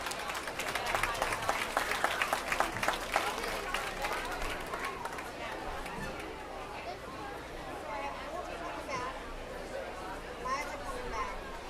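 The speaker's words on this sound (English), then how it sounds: "Let's give them a big round of applause." An audience applauds youth swine showmen at a livestock show, with a steady patter of clapping that is strongest early and then eases. Crowd chatter carries underneath.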